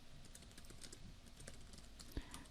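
Rapid typing on a computer keyboard while code is entered, a quiet run of soft, closely spaced key clicks with one louder keystroke near the end.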